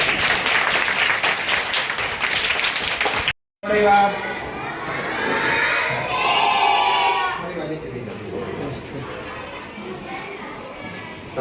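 Schoolgirls at a girls' school book distribution clap loudly and densely for a few seconds, then after an abrupt break a crowd of children's voices chatters and shouts.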